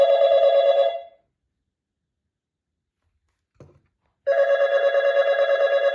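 Two bursts of a loud electronic ring from a Renny cell phone ringer and amplifier, split by a long gap holding one brief faint knock, the second burst pulsing steadily.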